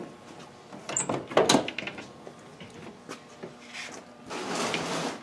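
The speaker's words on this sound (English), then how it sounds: "go ahead and open the door, Tom" Door of a 1969 Dodge Coronet hardtop opening: a latch click and metallic clunk near the start, then creaking hinge movement and a softer rustle as the door swings, close and fairly quiet with no talk.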